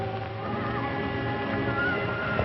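A wild horse whinnies amid a dense, steady mix of hoof clatter and background noise, the neigh partly buried in the busy sound around it.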